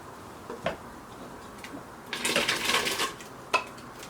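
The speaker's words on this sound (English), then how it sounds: "first we're going to add the potatoes" Potatoes dropping into a hot pot for Portuguese bean soup, heard as a few faint knocks and a short burst of clattering and rustling, then one sharp clink, with no talking.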